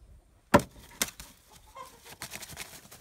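A chicken being held down gives sharp, close clucks and squawks, one loud burst followed by several fainter scattered clucks and rustling, with no talk.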